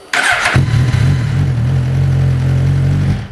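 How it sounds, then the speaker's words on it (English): A Suzuki GSX-R 1000 sport motorcycle engine cranks briefly with a high whine, then catches and settles into a steady, loud, close idle. "let's go ahead and let's get the bike started"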